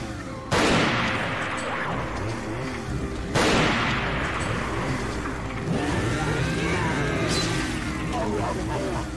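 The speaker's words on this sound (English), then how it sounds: "We need to shoot him with a couple rifle rounds." Rifle shots in a Resident Evil 4 mod game: two loud sharp blasts a few seconds apart, then a weaker third report, all over a constant noisy game ambience.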